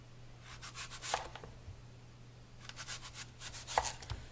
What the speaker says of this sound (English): we're just going to slice these apples and put those right